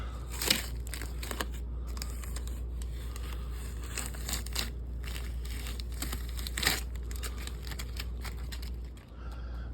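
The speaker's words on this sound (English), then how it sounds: "Peel the inside part first, then the tape." Tape being peeled off a wheel center cap on a Lexus GX470 after a tire change: quiet crinkling and tearing crackles in irregular bursts over a steady low hum.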